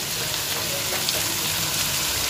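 Crushed ginger and garlic sizzling in hot oil in a pan, a steady close frying hiss with no talk.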